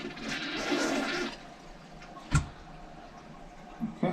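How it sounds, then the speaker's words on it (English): A toilet being cleared of a clog with an auger flushes in a brief loud rush of water, followed by a couple of hard knocks and thuds from the bowl or handle. "Flush the toilet."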